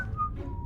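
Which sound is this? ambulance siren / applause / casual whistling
casual whistling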